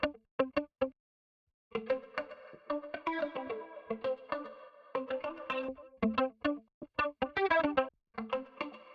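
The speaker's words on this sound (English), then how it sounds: "The next effect in parallel is the pretty cool echo tape too." A tape echo effect from a Universal Audio Spark runs on a disco-style instrumental track, with plucked notes and chords alternating between dry and repeating echoed passages, with a short silent gap near the start.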